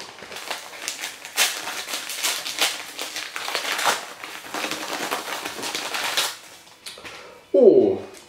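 A Chronopost parcel envelope is torn open and handled, producing dense crinkling and rustling of paper for several seconds, then a pause and a short voice near the end.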